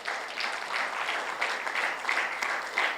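A church congregation gives a long round of applause for Jesus Christ during a sermon: dense, even clapping from many hands, close and steady for the whole three seconds with no talking.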